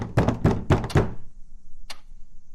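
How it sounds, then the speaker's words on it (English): Four heavy knocks thud on a door in quick succession in a horror story setting, followed by silence and one sharper, fainter tap. "There was another knock"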